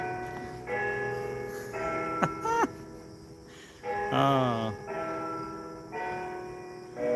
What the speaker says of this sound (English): And there's some church bells.